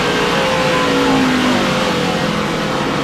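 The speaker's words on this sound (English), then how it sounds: "On board with Harvick." An onboard recording from a 2006 NASCAR Busch Series race car at the Food City 250 captures a loud, steady engine roar at high revs that shifts slightly in pitch, with no talk.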